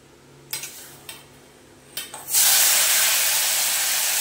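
Spice paste for a cauliflower rezala drops into hot oil after a few light clinks of utensils, then bursts into a loud, continuous close sizzle that holds to the end.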